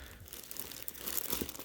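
Plastic bags holding Gundam model kit parts crinkle and rustle briefly, a soft close-up crumpling sound heard alone and fairly quiet.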